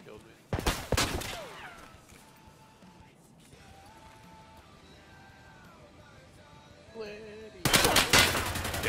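Rapid automatic gunfire bursts in the online shooter game Destiny, a loud flurry at the start and another at the end, with quieter game effects and tones between.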